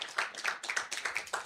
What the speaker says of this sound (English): Let's please welcome her with a round of applause.